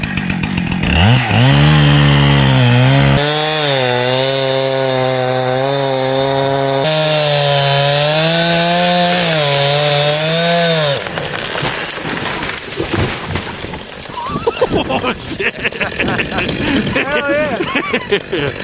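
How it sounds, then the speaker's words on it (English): A small chainsaw cutting a tree, starting with a revving whine that holds at high speed, then breaking into rough, uneven cutting and crackling as the wood gives way, with people talking nearby. "cutting it with the baby saw"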